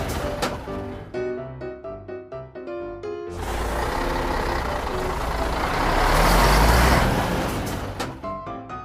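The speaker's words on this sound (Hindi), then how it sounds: "इंफॉर्मेशन आते ही एसआई चेक पोस्ट में रेत के ट्रक को रोकता है" A sand-loaded mini truck pulls up and stops at a checkpoint. A short burst of tonal music comes first, then a loud, rough rumble with hissing that swells and fades as the truck halts. There is no speech.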